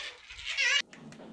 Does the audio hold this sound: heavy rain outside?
no